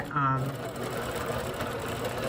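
A longarm quilting machine runs computer-guided Quilt Path eClipse stitching with a steady, close mechanical whirring hum, briefly under a voice at the start.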